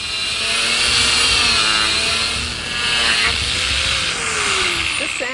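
A power sander whirs loudly and steadily, its motor pitch wavering slightly as it grinds against a surface, no speech.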